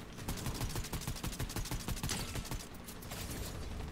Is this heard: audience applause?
no